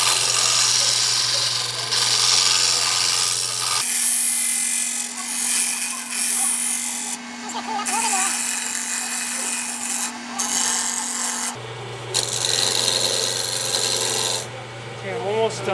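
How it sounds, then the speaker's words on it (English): A round nose chisel scrapes against spinning wood on a lathe in a steady rasping hiss, broken by short pauses as the tool lifts and the lathe motor hum shifts pitch. "Now sometimes I can use a round nose chisel because it seems to take off a little faster."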